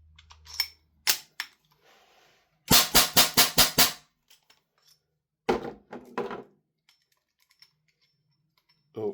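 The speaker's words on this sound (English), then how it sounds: "I'm going to shoot these off as quick as possible here" An Ares 4-inch Combat CO2 airsoft revolver fired quickly in double action: a fast run of five or six loud sharp cracks, with a few other shots and mechanical clicks scattered before and after, no voices.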